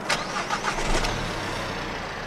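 A car engine running on fuel made from plastic cranks briefly and catches, settling into a steady low idle, close by with no voices.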